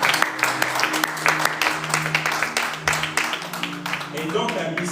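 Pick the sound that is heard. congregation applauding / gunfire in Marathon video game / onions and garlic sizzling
congregation applauding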